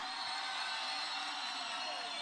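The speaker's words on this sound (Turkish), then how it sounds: "Şimdi de büyük alkışlarınızla" A large crowd at an outdoor political rally of the Green Left Party in Mersin applauds and cheers in a steady, dense roar of clapping and voices that holds for the whole stretch without a break.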